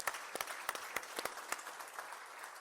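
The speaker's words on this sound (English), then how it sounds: "So I want to give a round of applause to those folks." Audience applause after thanks to staff at a talk on sports leadership, a steady, fairly faint wash of many hands clapping with sharper individual claps standing out, no talking over it.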